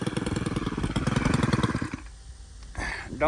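Stihl FS91R string trimmer engine revving hard near the mic, a dense rapid buzzing that drops toward a low idle before the throttle is blipped again.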